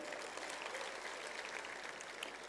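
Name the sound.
audience applause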